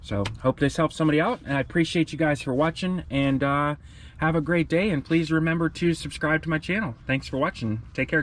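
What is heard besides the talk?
None of the usual background noises is heard.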